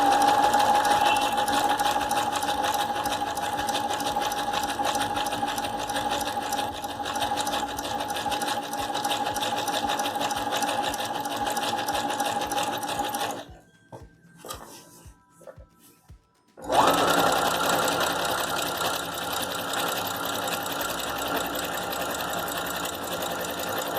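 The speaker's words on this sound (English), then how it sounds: "I'm going to just continue sewing here." A domestic sewing machine runs a continuous zig zag stitch along a saree pallu, loud and close with a steady whirring hum, briefly stopping for a few seconds before restarting at full speed.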